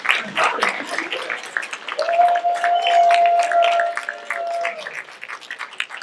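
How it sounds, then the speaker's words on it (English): An audience claps at a 2021 terrier hall of fame ceremony: scattered, moderate applause with a sustained tone ringing through the middle and some faint voices. "give her a round of applause for all that she does"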